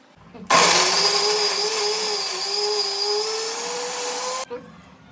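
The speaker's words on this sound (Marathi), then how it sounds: "आणि आता त्याचे बारीक काप करून मिक्सरला वाटून घेऊ" A kitchen mixer grinder whirs loudly for about four seconds while grinding finely chopped fresh coconut, starting abruptly and cutting off, with a steady high motor whine.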